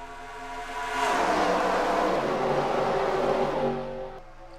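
Race cars at full speed on a Michigan oval during the NRLOA 500 make a loud, steady engine whine with layered tones, which swells after the first second, holds, then fades near the end.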